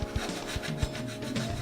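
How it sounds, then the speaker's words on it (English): A small flat file rasps against the window frames of a model hotel building, giving a series of short, close, regular strokes with brief pauses between them. "Here I'm using my small flat file to file out some of those window frames"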